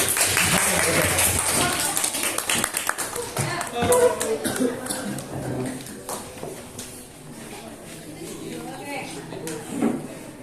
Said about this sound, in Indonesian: Kita beri tepuk tangan untuk teman-teman semua.